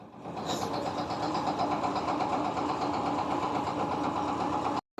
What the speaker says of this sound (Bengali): বালুর জাহাজ আনলোড হইতেছে।